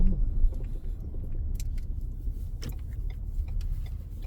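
Steady city street traffic in San Francisco, a continuous low rumble of passing cars with a few faint ticks and clicks on top, fairly even throughout with no talking.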